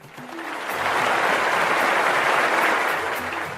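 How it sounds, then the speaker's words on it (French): Crowd applauding and cheering, a dense wash of clapping that swells within the first second, holds loud and steady, then begins to taper toward the end. "La foule l'acclama."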